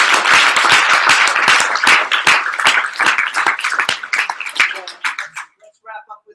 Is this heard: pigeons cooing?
no